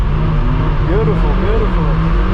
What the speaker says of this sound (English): I'm gonna be drifting my MX-5 again